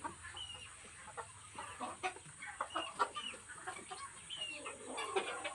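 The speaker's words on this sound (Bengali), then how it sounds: "দেখো বন্ধুরা এদিকেও প্রচুর মুরগি আছে" Many chickens on a poultry farm cluck and squawk in a busy, overlapping chorus, some close and some farther off, with irregular bursts throughout.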